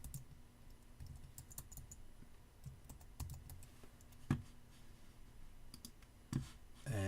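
Username typed on a computer keyboard, quiet close key clicks in irregular runs with pauses between them, ending in a few firmer presses, over a faint hum and with no talking.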